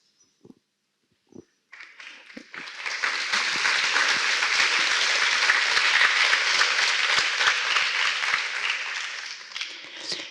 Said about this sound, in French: Vous l'avez fait pour moi en applaudissant, c'est parfait.